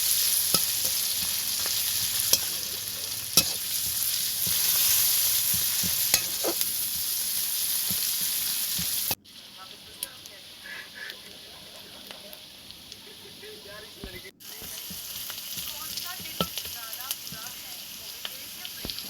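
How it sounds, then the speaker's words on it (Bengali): Garlic, chopped onion and green chilli frying in hot oil for a prawn and banana-flower dish, a continuous close sizzle and hiss with stirring clicks, quieter in the middle stretch before the crackle rises again. "রসুনগুলো ভাজা হয়ে গেলে তার মধ্যে দিয়ে দেব পেঁয়াজ কুচি আর কাঁচা লঙ্কা, দিয়ে সেগুলোকেও ভাজতে থাকবো।"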